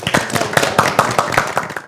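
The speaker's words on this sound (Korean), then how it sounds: "박수 한 번 부탁드리겠습니다" A small group claps close by, with about a dozen distinct, sharp hand claps in a loose, quick rhythm, loud and separate rather than blended into a roar.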